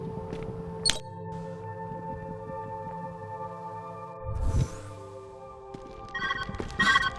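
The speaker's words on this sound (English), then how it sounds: "Where's that ringing coming from?" A ringing tone from the puzzle video game Viewfinder holds steady throughout as a sustained electronic hum, with a brief clank near the start, a whoosh midway and a bright chiming burst near the end.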